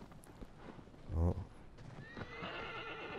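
Horse neighing in the PS4 game Shadow of the Colossus: one loud whinny bursts out near the start, followed by lighter hoof clatter and game ambience, with someone talking faintly underneath.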